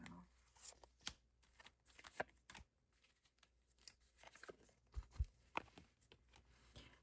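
Tarot cards shuffled and drawn by hand during a reading, giving soft papery riffles, slides and snaps that come and go irregularly, close by and quiet.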